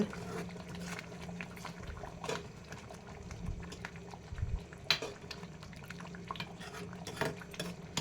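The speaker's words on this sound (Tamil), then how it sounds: "இப்போ பத்து நிமிஷம் நல்லா கொதிக்குது குழம்பு" Quiet bubbling of egg curry simmering in a pot, soft irregular pops and gurgles with occasional faint clinks in the background.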